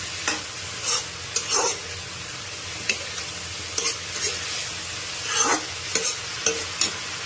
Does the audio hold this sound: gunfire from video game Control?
no